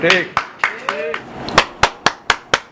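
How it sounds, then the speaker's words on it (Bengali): A series of sharp hand claps, about ten in a steady rhythm, close and loud, the first few overlapping a voice, then a clean run of claps alone. "আমি হাততালি দিচ্ছি"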